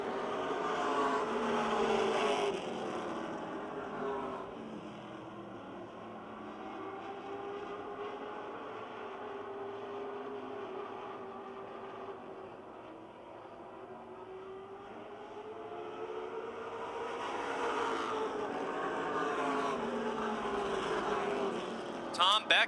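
Race cars circling the Motordrome Speedway oval during a 10-lap feature, a steady engine drone that swells and fades as the field passes, with an announcer's voice running over it throughout.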